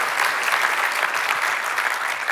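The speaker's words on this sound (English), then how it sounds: "give them a round of applause" An audience applauds a development team, with David and Kathy standing to be recognized: a dense, steady wash of many hands clapping together, close and sustained with no pauses.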